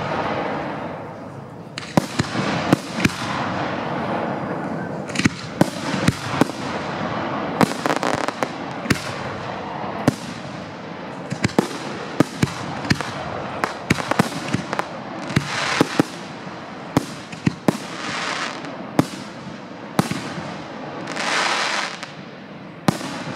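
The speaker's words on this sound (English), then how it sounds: "moving on to 4-inch Freedom assorted shells" Four-inch Dominator and Freedom assorted firework shells burst one after another in a rapid, irregular string of loud booms and sharp cracks, some with crackling tails.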